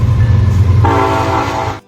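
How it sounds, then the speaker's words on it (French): Train rolling past a riverside campsite, a loud low rumble of the cars joined midway by a steady sustained horn blast, close and continuous, ending abruptly. "Il y avait un terrain de camping où j'ai pu poser ma tente à côté du fleuve et où les trains passaient régulièrement."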